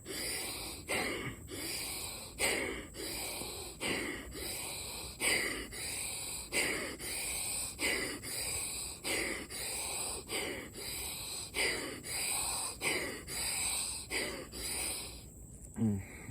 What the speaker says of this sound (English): you want to do a more powerful exhale and then do an inhale